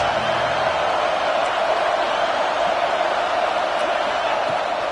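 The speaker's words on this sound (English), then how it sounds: "this crowd is at fever pitch" Football stadium crowd during a college game against Notre Dame, a steady dense roar of cheering held at a constant level throughout, with no distinct voices standing out.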